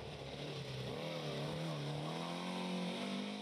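A 1973 Volkswagen Beetle 1303S with a 1600 cc engine racing in a historic hill climb, its engine droning steadily and loudly with a rising, shifting pitch throughout.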